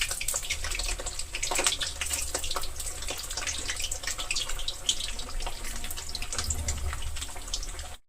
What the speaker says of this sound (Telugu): చేతికున్న నీటి చుక్కలు వాటర్ ఆయిల్లో పడ్డిస్తున్నాయి చెట్టుపట్ల ఆడుతున్నాయి